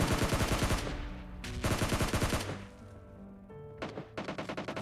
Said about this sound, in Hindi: तो मैं इन पे फायरिंग करता हूँ